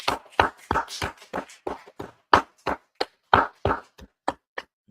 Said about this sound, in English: All right, so let's go ahead and clap it up.